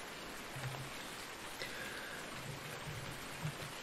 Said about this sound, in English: Pretty much full on storm.